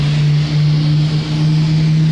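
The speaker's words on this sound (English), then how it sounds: "Oh, someone is starting the engines. This is the huge Boeing 777." The engines of a Boeing 777 airliner start on the ground near the cockpit, producing a loud steady low drone with a strong humming tone and a gently pulsing rumble, with no speech.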